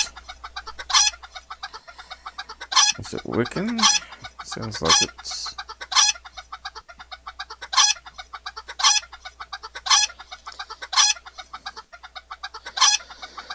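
A chicken clucking sound effect loops over and over in regular, evenly spaced bursts, with a brief rooster-like squawk in the middle and a few words of talk early on.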